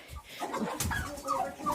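Chickens cluck and chatter close by in short, irregular bursts, with no other voices.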